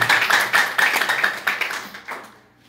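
A church congregation claps along in quick rhythmic bursts, fairly close and lively, the applause thinning and fading out near the end.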